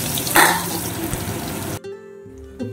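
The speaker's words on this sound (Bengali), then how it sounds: "এখন আমি কুচি করে রাখা পেঁয়াজগুলো দিয়ে দিচ্ছি" Chopped onions hitting hot oil for mutton curry, a loud burst of frying hiss that stops abruptly partway through, followed by quieter tonal background sounds.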